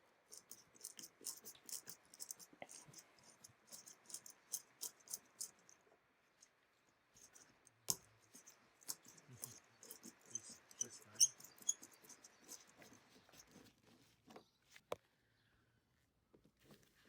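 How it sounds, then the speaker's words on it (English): T15 Torx screws being unscrewed from a headlight assembly on a 2008 Golf City: faint, scattered small clicks and light rattles, close by and quiet, with short pauses between bursts. "So I'll start by removing these four Torx screws"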